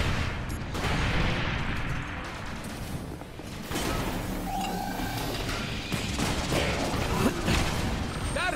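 Artillery strike explosions in The Bureau: XCOM Declassified rumble through a dense din of battle. Repeated booms and gunfire run almost continuously, with some mechanical tones mixed in.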